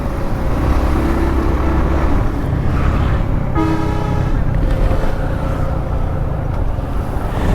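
Motorbike ridden along a village road in Dinajpur, engine drone and wind rush steady and close, with a brief horn toot from nearby traffic partway through.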